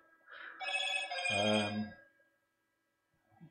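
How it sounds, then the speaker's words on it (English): A telephone rings once with a bright electronic trill lasting under two seconds, clear and fairly near in a quiet room, followed by a faint noise. "Phone's going ballistic now as well."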